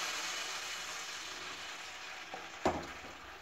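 Wheat flour malpua batter sizzles steadily in hot oil, a continuous close frying hiss with a brief clatter near the end.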